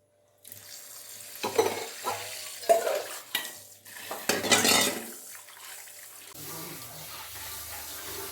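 Crushed turkey berries (sundekai) being washed in water for a traditional sambar, with close bursts of swishing and splashing broken by short pauses and a low background hum.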